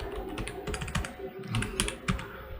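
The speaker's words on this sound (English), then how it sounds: "I need to type as confirm in capital letters" Typing in capital letters on a computer keyboard, a steady run of close, crisp key clicks with uneven rhythm and a few harder strikes, no voices.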